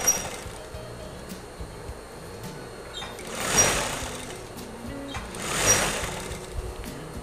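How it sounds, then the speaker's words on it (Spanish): A sewing machine stitches along the seam joining two wave-shaped fabric pieces of a gathered balloon valance, with a steady motor hum rising into two louder stitching runs over faint background noise. "vamos a coser por la misma unión de las dos ondas"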